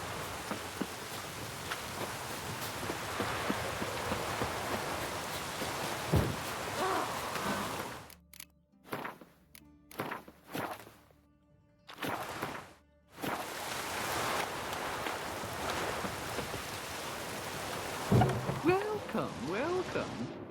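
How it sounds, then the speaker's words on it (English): Steady rain hisses over an outdoor scene in The Witcher 3: Wild Hunt, a broad wash of patter that drops out briefly midway, then returns with footsteps, a thud and faint ambient game sounds. "Looked like it would rain, and here it is."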